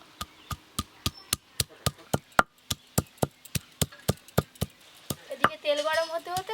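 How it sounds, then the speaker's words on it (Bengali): Ginger and garlic are ground together into a fine paste for cooking fish, making a fast, even series of about twenty sharp knocks that are close and crisp, with a voice rising briefly at the end. "মাছ রান্নার জন্য প্রথমে আদা রসুন একসঙ্গে বেটে নেবো"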